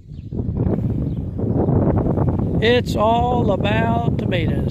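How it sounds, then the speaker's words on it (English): Wind buffets the microphone outdoors on a farm, a constant rough rushing noise running throughout while a person speaks over it. "Sorry about the wind, folks,"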